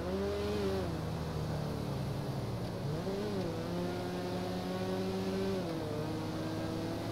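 A car driving in the game GTA RP, its engine drone steady and close throughout, with pitch that rises and falls as it shifts and accelerates.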